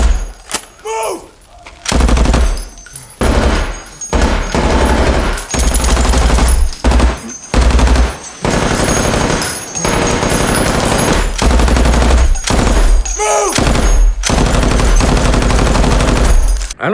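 Sustained machine gun fire from a war movie trailer, long loud rattling bursts broken by short pauses, with sharp single cracks mixed in, all close and intense.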